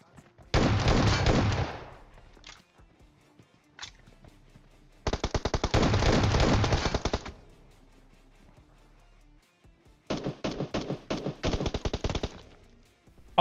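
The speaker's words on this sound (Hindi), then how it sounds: "एस बारह के चला रहा हूँ" S12K shotgun fire in PUBG Mobile during an intense end-zone fight: three loud, close bursts of rapid repeated shots, each lasting about two seconds, separated by short pauses with a couple of isolated shots between them.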